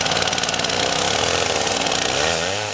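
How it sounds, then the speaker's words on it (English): Chainsaw on a basic Alaska mill rig milling a bucked 14-foot log, running loud and close at steady high revs with a constant buzzing drone and no talk. "The first stage of milling it up with the chainsaw using a fairly basic Alaska mill rig"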